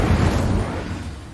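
A loud, dense spell blast from the Hogwarts Legacy video game, a broad booming burst that fills the whole moment and fades slightly toward the end.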